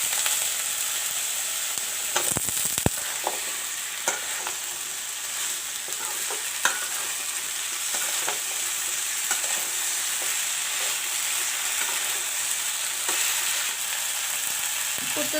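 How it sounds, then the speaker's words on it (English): Mixed vegetables such as potato, cauliflower and brinjal sizzle steadily in browned masala in a pan, with occasional scraping stir strokes and clatters over a continuous hiss. No voices. "Now I am going to put in the vegetables."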